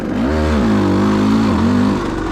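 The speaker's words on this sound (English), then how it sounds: "Just went to hit the gas, revs were too low, and stalled it." A motorcycle engine in third gear with revs too low revs up close by and stalls, its droning pitch rising, holding, then sagging and rising again, loud and continuous with no speech.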